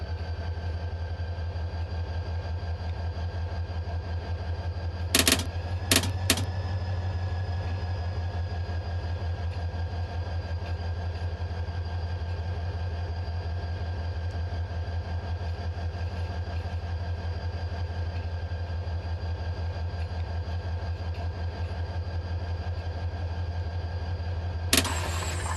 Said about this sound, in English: Let's move the engine forward to that checkpoint.